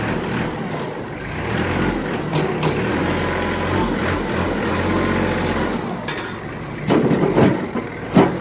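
A 2013 Kubota L3800D tractor engine runs in low range with 4-wheel drive engaged, a steady close-up low drone that swells into louder bursts toward the end.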